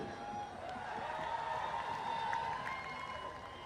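An outdoor reggae concert crowd at a park festival clapping and cheering in a steady, distant wash of applause with faint voices mixed in throughout.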